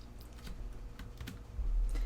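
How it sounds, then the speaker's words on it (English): Keys clatter on a computer keyboard as the slash key and a search are typed, a close run of quick, light clicks at an uneven pace with no talk. "on my keyboard, I'm hitting the /"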